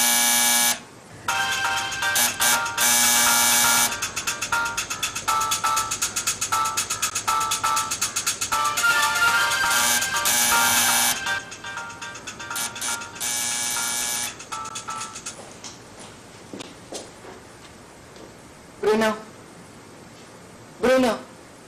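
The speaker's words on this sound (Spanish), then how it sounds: "suena todo junto, está sonando el timbre, recién entró un mensaje de texto" In a Spanish-language drama, an electronic doorbell buzzes in long loud bursts, and a short text-message chime follows near the end, with people talking over parts of it.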